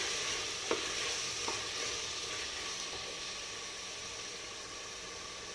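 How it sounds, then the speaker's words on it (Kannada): Vegetable pulao ingredients sizzle steadily in a pan as a utensil stirs them, with a few sharp scraping clicks early on over a continuous hiss of frying. "ಇದು ಸ್ವಲ್ಪ ಚೆನ್ನಾಗಿ ಫ್ರೈ ಹಾಕ್ಕೋಬೇಕು"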